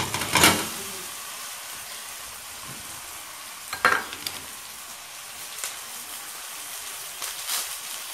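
Potatoes hit a pan of already fried garlic and onion with a loud sizzle, then keep frying under a steady hiss, broken by scraping stirs and clatters at intervals.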